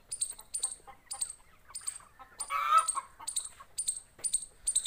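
Chickens on a small village egg-laying poultry farm give repeated high, rhythmic peeps and clucks close by, with a brief rougher call in the middle.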